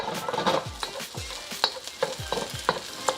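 Scrambled egg for chicken fried rice is broken up and pushed around a hot pan. A loud sizzle runs under quick, rhythmic scraping strokes about twice a second, close and clear.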